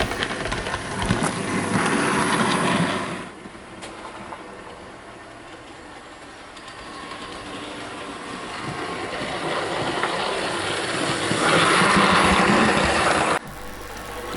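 A Bachmann Class 47 model diesel locomotive runs around a layout, giving a steady whirring motor hum with faint rail clicks that dips midway and swells again as it passes near.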